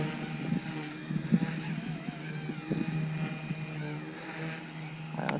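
A Blade 150 S small RC helicopter flying at a lower head speed gives off a continuous high-pitched rotor whine and buzz that rises and falls slightly as it maneuvers, fairly close.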